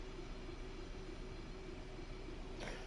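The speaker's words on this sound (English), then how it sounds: "Wagon sounds quite nice." Freight wagon rolling along the track in Train Sim World 4, a steady, faint rumbling hum with a constant tone and a short swish near the end, no voices.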